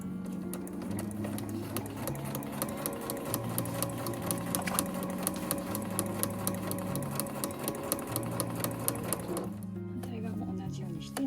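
A household sewing machine stitches along the edge of a nylon tote bag, its rapid, even mechanical whirr running steadily and close for about nine seconds before stopping abruptly, with soft background music underneath.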